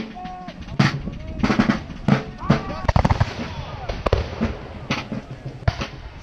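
Muskets fire in ragged volleys at a Revolutionary War reenactment, sharp cracks scattered through the clip amid shouted commands and the bustle of a crowd.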